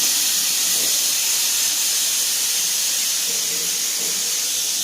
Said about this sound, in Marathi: या ठिकाणी तीन शिट्ट्या झालेल्या आहेत मित्रांनो